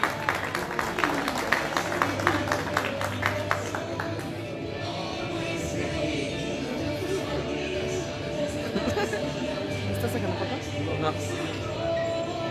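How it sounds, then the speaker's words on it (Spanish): Audience at an award ceremony in El Alto applauding, steady clapping from a crowd that is loudest early and then thins into a lighter patter, with background chatter. "un fuerte aplauso"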